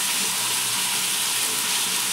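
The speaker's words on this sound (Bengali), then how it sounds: "ভালো করে ভাজা হোক" Oil sizzles steadily in a pan as spiced chicken feet fry, a constant bright crackling hiss that stays loud and even throughout, with no talking.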